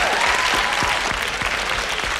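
A high school audience applauds steadily at a songwriting master session, with dense, even clapping throughout and a few sharper single claps standing out.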